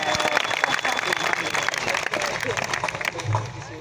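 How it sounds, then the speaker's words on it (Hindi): An audience at a Hindi poetry festival in Nokha claps for a poet, dense, continuous applause from a large crowd with a voice talking over it now and then. "आपकी आंखों में थोड़ी लज्जा और हाथों में शक्ति शेष हो तो एक बार मेरे लिए भी तालियां बजा दीजिए"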